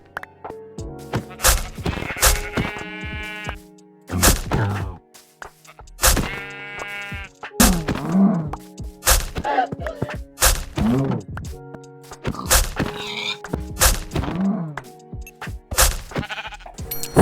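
Minecraft sheep bleat again and again in survival mode, loud and close, mixed with sharp hitting thwacks and thumps as the animals are struck.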